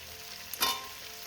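Square-cut capsicum pieces fry in a pan with potatoes, giving a short burst of sizzle over a faint, quiet background hiss.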